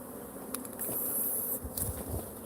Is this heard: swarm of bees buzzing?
yes